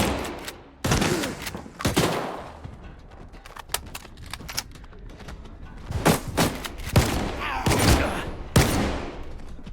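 Loud shotgun blasts firing buckshot boom at irregular intervals in S.T.A.L.K.E.R. 2, several sharp bursts with crackling and thuds between them in a game-style mix.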